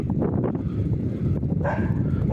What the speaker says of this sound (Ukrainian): Собаки гавкають.